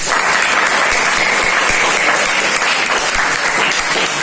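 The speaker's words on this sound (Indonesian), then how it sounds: "Berikan tepuk tangan." A large crowd at a religious gathering breaks into loud, sustained applause, dense and even from start to finish with no break.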